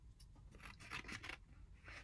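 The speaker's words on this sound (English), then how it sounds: "So I'm going to cut this one." Scissors cutting a misprinted screen print for a collage, a run of several close, crisp snips and paper scrapes, quiet and unaccompanied by talk.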